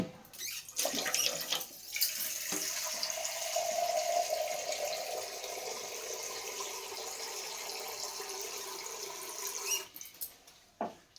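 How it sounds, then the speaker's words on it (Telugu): About half a glass of water poured into a raw prawn and gongura curry in the pot, a continuous rushing splash lasting several seconds that then tapers off with a few clinks, near and with no talk. "ఇదిగోండి కొంచెం ఒక 1/2 గ్లాస్ వాటర్ వేసి"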